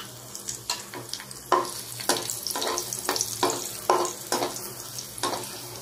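Raisins fry in hot oil after cashews, giving a crackling sizzle that swells in repeated bursts about every half second as they are stirred and tossed close by.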